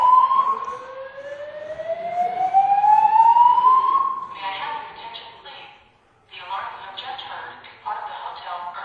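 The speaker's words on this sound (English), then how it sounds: "The alarm you have just heard is part of the hotel early alert system." A hotel early alert system alarm sounds as a loud rising electronic siren sweep for about four seconds, followed by a public-address voice announcing over a large presentation hall.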